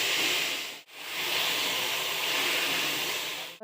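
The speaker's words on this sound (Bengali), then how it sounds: "আমি ধুয়ে রাখা ডালিয়া দিয়ে দেব।" Washed dalia (broken wheat) dropped into lightly fried mixed vegetables in a pan, giving a steady, fairly loud sizzle with hiss that breaks off briefly near the start and then continues unbroken.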